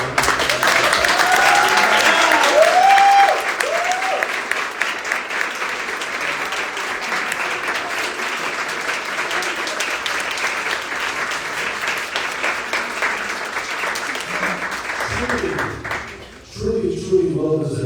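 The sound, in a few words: audience applause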